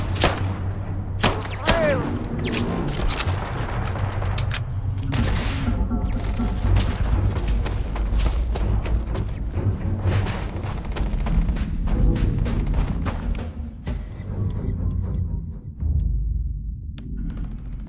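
Turrets opening fire in Starfield, a long stretch of repeated gunshots and thudding booms with mechanical clatter, loud and dense throughout and fading slightly toward the end.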